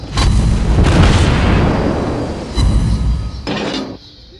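Heavy ship cannon blasts in a video game boom loudly, one after another, each followed by a rumbling decay, with a final sharp impact before fading out.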